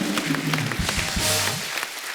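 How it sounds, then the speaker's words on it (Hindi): Studio audience at a comedy talk show clapping after a guest is welcomed, a short dense burst of applause with some voices mixed in. "एक बार जोरदार तालियां"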